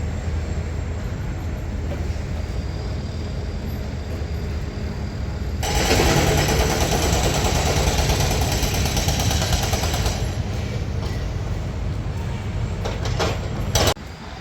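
An excavator's hydraulic hammer breaks ground at stadium works in Madrid on a windy day, giving a loud, continuous pounding rattle that swells into a harsher burst midway and drops off abruptly at the end.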